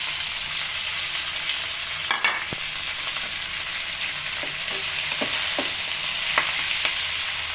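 Spinach sizzles in hot ghee with curry leaves, a steady, close frying hiss broken by a few light clinks and stirring sounds, with no one speaking.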